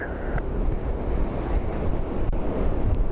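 Storm Bram's wind gusts at Dublin Airport, a loud continuous roaring rush buffeting the microphone, swelling and easing without pause and with no voices.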